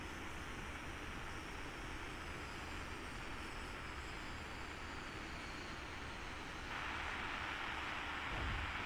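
A Mirage F1 jet engine on a simulated landing approach drones as a steady broad roar with a faint whine, swelling slightly louder near the end.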